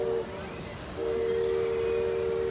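The Disneyland railroad train passes near the waterfront, with a steady whistle-like tone sounding over a low rumble and outdoor crowd ambience.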